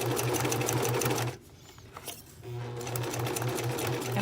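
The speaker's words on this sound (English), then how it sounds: "you can see me sew, I think, fairly well, but I'm running into all the glue" Sewing machine stitching along the edges of junk journal paper pages, running into glue along the way; steady close mechanical whirring with a brief pause in the middle before the stitching resumes.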